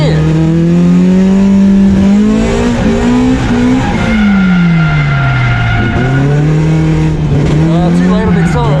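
A race car accelerating hard in third gear on a technical track, its engine a loud, steady close-up roar whose pitch sweeps up and down continuously as the revs rise and fall through corners.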